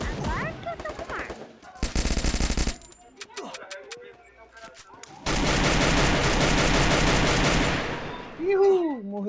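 Automatic gunfire in the video game Free Fire, two rapid bursts, one short and one several seconds long, among single shots and game effects, with voices talking between.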